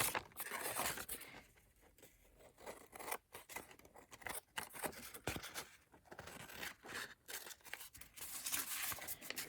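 Scissors cutting through card for a papercraft project, with repeated crisp snips and rustling paper between cuts, close and fairly loud, no talking.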